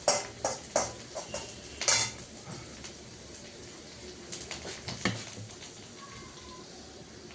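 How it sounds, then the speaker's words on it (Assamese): A utensil scrapes and clinks against a cooking pan while masala spices are stirred in with fried onions, producing irregular metallic taps and scrapes, close and moderately loud, amid quiet kitchen background. "মই মছলাখিনি ধুনীয়াকৈ মিক্স কৰি লৈছোঁ"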